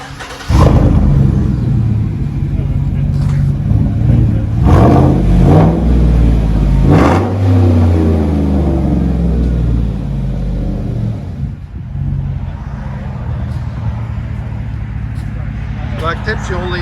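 A 2015 GMC Sierra All Terrain with a 6.0L V8 and dual straight-pipe exhaust revs loudly and close, its deep exhaust rumble climbing and falling through several throttle blips and then settling into a steady idle, while someone talks over it.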